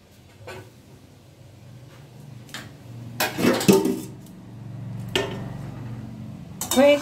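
A lid is set over a pot of rui fish rezala on a kitchen stove, with a few metallic clanks and clinks scattered through otherwise quiet moments, the loudest near the middle and at the end.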